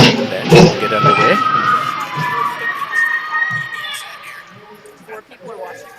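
Cheers and shouts from a youth team bench at a U12 hockey game rise in a burst near the start, then fade into rink crowd noise with children calling out and talk over the arena.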